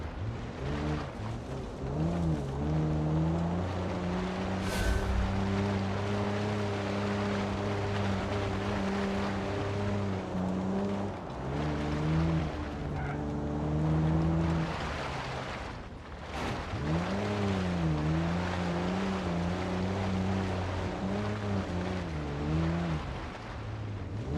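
Car from 1972 in an off-road challenge in the video game Automation, its engine droning steadily with rising and falling revs, loud and close with no talking.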